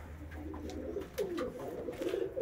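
Pigeons coo in soft, low, rolling calls close by, several overlapping over a steady background hum, with no speech.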